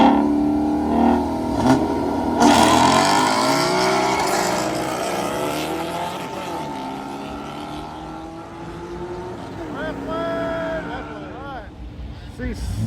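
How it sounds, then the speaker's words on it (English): Ford and Chevy LT1 cars drag racing, engines revving loudly and rising in pitch as they accelerate away, then fading with sweeping passes, with voices talking over the engine noise. "Ford versus Chevy, y'all. Classic American race right here."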